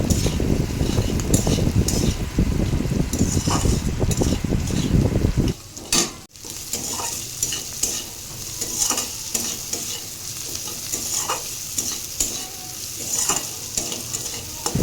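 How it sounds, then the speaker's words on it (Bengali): Semolina frying in a pan while being stirred, a loud, dense sizzle with constant scraping and scratching at first, then a quieter, lighter sizzle with sporadic stirring strokes and a few faint clinks. "তারপর এটাকে নাড়াতে থাকবো যতক্ষণ এটা ভাজা ভাজা না হয়ে যাচ্ছে, ততক্ষণ এটাকে নাড়াতেই থাকবো।"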